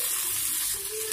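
Small onions hit hot oil with fennel and cumin, a brief, loud, continuous sizzle heard close up with no talking.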